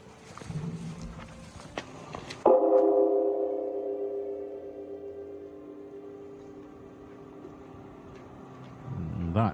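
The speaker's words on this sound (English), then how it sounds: "That is the sound of the temple gong," Temple gong in a quiet Japanese village marking the noon hour, a single loud deep strike after faint footsteps and background murmur, its long resonant hum slowly decaying over several seconds before a soft voice begins.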